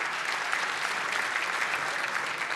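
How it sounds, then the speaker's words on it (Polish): Steady applause from an audience at a Polish football association gala fills the whole stretch, dense and even, with no voices rising above the clapping. "Jerzy Engel, wielkie brawa dla powołanych do kadry pomocników."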